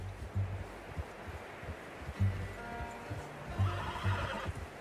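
A horse in the video game Red Dead Redemption 2 whinnies a few times over soft hoof clops and rustling, with a faint ambient bed underneath; no one speaks.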